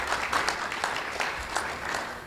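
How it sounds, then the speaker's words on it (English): Moderate applause from an audience at a ceremony awarding the Ohio Valley Conference basketball championships to Evansville, a short burst of clapping that stays fairly steady. "Can you give them a round of applause?"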